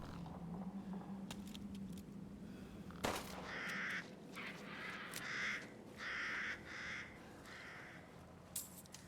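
Several crows caw in short harsh bursts over a steady low ambient hum in the video game Resident Evil Village, with a brief creak or thud partway through.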